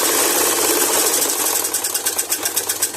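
A sewing machine runs steadily while stitching a latkan trim, its motor whirring continuously and the needle tapping in a quick even rhythm up close, heard alone without talk.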